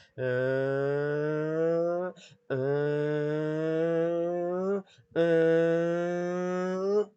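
A voice imitates an engine revving through the gears: three long, rising droning notes, each cut off briefly before the next begins.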